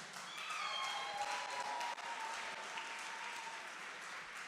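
An audience at a Congolese choral music federation awards ceremony applauds a guest being called up, a sustained, fairly loud wash of clapping that continues evenly throughout.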